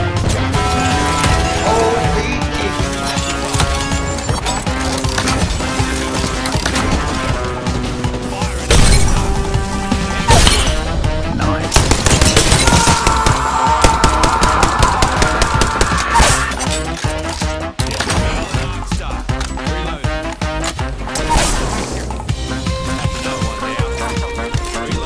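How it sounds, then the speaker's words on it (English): A rocket launcher fires in Apex Legends amid a loud, chaotic battle, with blasts, shattering crashes and bursts of gunfire packed densely together throughout. "Rocket launcher!"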